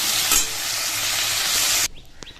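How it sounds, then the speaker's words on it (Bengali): Potatoes fry in a pan with a loud, close crackling sizzle that cuts off abruptly, leaving a few faint clinks and small sounds. "এই দেখো আলু ভাজাটা চাপিয়ে দিলাম তো আলুটা ভাজা হোক"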